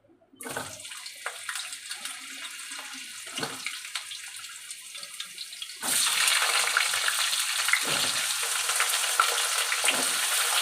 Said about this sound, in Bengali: জিরে লাল হয়ে গেছে, এবার আলুটা ছেড়ে দেবো